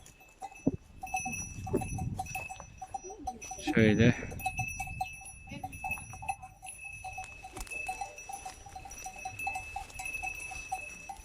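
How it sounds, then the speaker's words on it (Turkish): Sheep grazing outdoors in gardens, with a bell clanking and scattered animal calls, a brief burst of nearby activity, and a short spoken word. "Bahçelerimizde koyunlarımızı yayıldırıyoruz."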